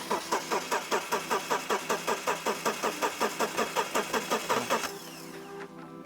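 A BMW engine cranks with a steady rapid chugging of the starter for nearly five seconds, close and loud, then the rhythm breaks off as it catches or stops.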